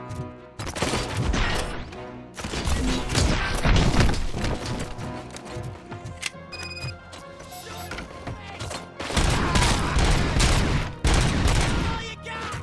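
Gunfire in the video game RoboCop: Rogue City comes as dense, loud bursts of rapid shots and crashes. The firing fills most of the stretch, with a short lull and a few ringing tones partway through.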